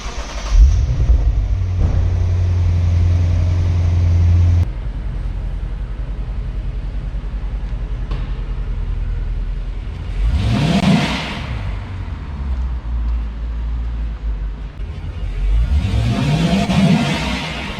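A 2024 Lexus IS500 with a V8 engine, heard loud and close as a steady idle rumble that drops in pitch, then two separate revs that climb and fall back.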